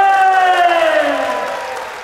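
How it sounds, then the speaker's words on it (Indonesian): A seminar audience at an entrepreneur event cheers loudly, with a sustained, falling chorus of voices over a bed of crowd noise that slowly fades across two seconds. "Tepuk tangan yang sangat meriah dong, kasih suara memuji"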